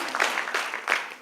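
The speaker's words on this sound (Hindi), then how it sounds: "मैं चाहूँगा जोरदार तालियों से" A short burst of audience clapping at a public event, a quick dense patter of hands with a few louder swells, close and moderately loud.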